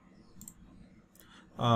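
Mouse clicks while a trading bot's low and high price settings are entered in a crypto spot grid setup, a few faint, sharp clicks spaced apart, then a louder burst at the end, with someone speaking Hindi and English around them.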